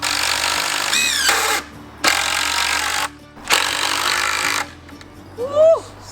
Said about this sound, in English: Suck that right in.